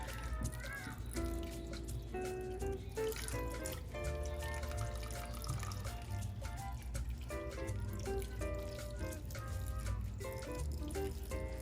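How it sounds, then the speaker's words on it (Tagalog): Pineapple juice poured into a pot of pork for Filipino-style pork asado, a steady continuous trickle and splash lasting several seconds, faint beneath loud background music. "So, ibuhos na natin lahat yung laman ng pineapple juice."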